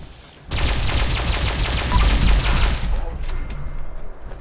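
Unknown Alien Blaster pistol in Fallout 76 fired in a rapid VATS volley, a loud, dense stream of zapping energy shots for about two and a half seconds, then a fading tail.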